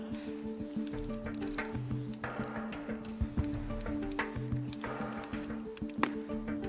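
Bursts of hissing spray from an aerosol spray paint can during a magic act on stage, several short blasts with pauses, over a steady musical background.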